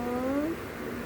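A cat at morning play gives a single rising meow up close, its tone sliding upward before fading into a quiet room hum.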